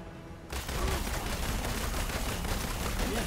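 Sustained rapid gunfire from an Avengers video game, starting abruptly after a brief quiet moment and continuing as a loud, dense volley with no voices over it.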